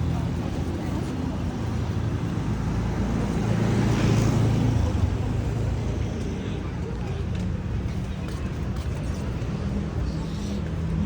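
Steady roar of street traffic and passing motor vehicles along a row of tuk-tuks in Chiang Rai, Thailand, a dense continuous wash with one louder vehicle swelling past midway, with people talking in the background.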